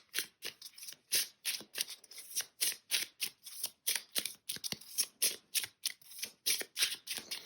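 Lenormand cards are shuffled by hand in a quick, even riffle of crisp, papery flicks, about two to three per second, close and fairly quiet with no talk.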